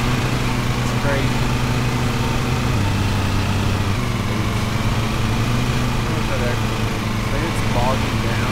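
A riding lawn mower engine in a mowing simulator game drones steadily at close range, its pitch sagging now and then as it bogs down, while a person talks over it.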